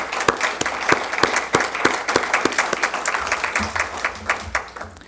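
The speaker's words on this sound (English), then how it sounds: "let's give a hand of applause for Debbie and Paula for what they've done." Audience at a leadership group presentation applauds, giving a moderate round of clapping with distinct individual claps standing out and gradually thinning toward the end.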